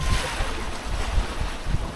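Big waves wash around a sailboat under reduced sail at sea, a loud, continuous rushing surge with low buffeting wind noise and no speech.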